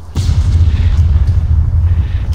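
Gunfire in the military shooter game ArmA booms loudly, with a heavy opening blast and a rumbling low tail after it.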